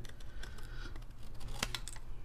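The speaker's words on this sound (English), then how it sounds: "So on the side that has the fold, I just go, put bigger scissors here." Scissors trim the edges of a paper pocket holder, giving a few quick, crisp snips close by against a faint rustle, with no talking.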